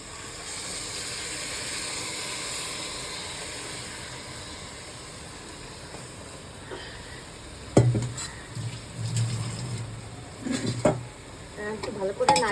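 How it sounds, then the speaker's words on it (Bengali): Dalia, broken wheat, stirred in a pan for khichdi: a faint hiss at first, then a run of scraping spoon strokes and light clatter against the pan in the second half. "একটু ভালো করে নাড়িয়ে দিচ্ছি।"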